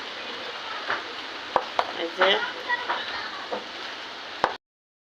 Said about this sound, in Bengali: এই যে নাড়াচাড়া করে উলট পুলট করে দেওয়া হচ্ছে